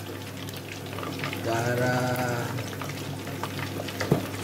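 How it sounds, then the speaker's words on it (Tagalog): Close, steady sizzling of pork frying in boiling oil with scattered crackles and pops; a voice speaks briefly. "Paliguan lang natin ng paliguan ng mantika guys na kumukulo"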